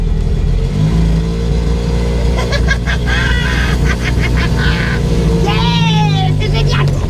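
A French license-free microcar pulls away at full throttle in first gear, its small engine droning loudly and climbing in pitch, with excited voices calling out over it.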